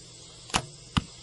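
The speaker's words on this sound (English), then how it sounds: "I'm going to shoot 2 arrows out of it." A Super Cobra Jet recurve bow drawing 50 pounds at 28 inches looses two arrows, each a sharp, distinct snap-and-thump about half a second apart over quiet background.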